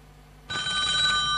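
A telephone bell starts ringing abruptly on a Polish TV quiz show, a bright sustained electric ring that holds steadily after a quiet moment, close and alone.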